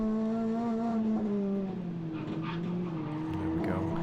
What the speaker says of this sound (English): There we go, heavy braking.